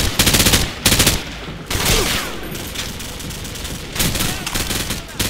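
Loud bursts of rapid automatic gunfire in Call of Duty, set in Rio's Rocinha favela, several volleys separated by short gaps, with a steady background rumble.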